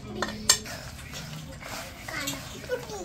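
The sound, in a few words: mixing chili powder into chicken in a bowl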